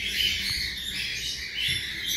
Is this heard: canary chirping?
yes